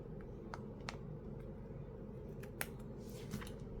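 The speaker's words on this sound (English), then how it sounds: "We'll take our scissors and trim off that washi tape." Faint, sharp snips of scissors trimming washi tape, scattered and irregular, against a quiet low background hum.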